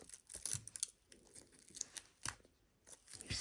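Cellophane wrap being pulled and torn off a Mezco G.I. Joe Storm Shadow action figure accessory, close, quiet crinkles and sharp tearing snaps in irregular bursts with short pauses.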